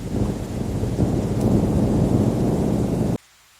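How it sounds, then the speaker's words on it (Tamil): Heavy rain pours down steadily with rumbling thunder on a monsoon evening in 1990s Tamil Nadu, a dense loud wash that cuts off abruptly near the end. "மழை நல்லா வெளுத்து வாங்குது"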